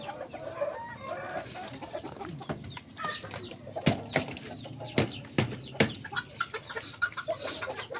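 Small chickens clucking and peeping at an egg-harvesting spot, irregular chirps and clucks with sharp louder calls scattered throughout, fairly close.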